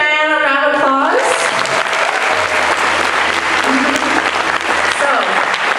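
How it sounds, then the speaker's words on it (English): An orientation audience breaks into applause for a student success coach, dense clapping that swells right after a brief spoken line and continues steadily to the end, with a low hum underneath. "Can we give Diane a round of applause?"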